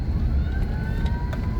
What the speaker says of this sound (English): That's sirens.